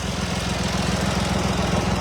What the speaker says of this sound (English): You're going to have to excuse the noise a little bit from the loader